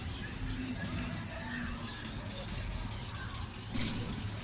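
Wet 2500-grit sandpaper rubbing steadily across a cloudy plastic car headlight during restoration, a soft continuous scratchy hiss that holds at an even level with no talking.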